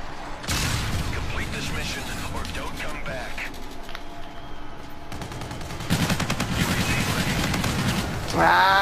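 Rapid video-game gunfire from Call of Duty: Infinite Warfare multiplayer in a snowy map, bursts of automatic shots running continuously and loud, growing denser near the end, with a player talking excitedly over it.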